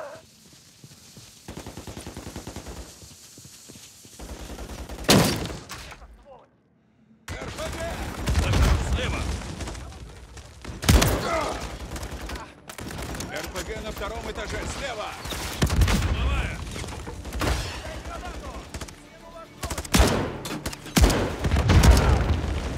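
Bursts of automatic gunfire and booming explosions from the video game Call of Duty: Modern Warfare III, loud and recurring through the clip with a voice speaking over the combat.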